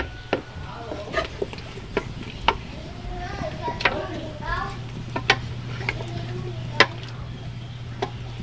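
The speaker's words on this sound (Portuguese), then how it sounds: "Tem que botar devagarzinho, mexendo." Duck in tucupi stirred in a pot over a wood fire in rural Amazonas: sporadic scraping and tapping clicks over a steady low hum, with faint voices in the background.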